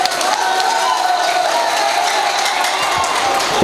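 Loud, dense crowd noise at an All India Mushaira poetry gathering in Mahona, Lucknow, a continuous roar of applause mixed with cheering that stays steady throughout.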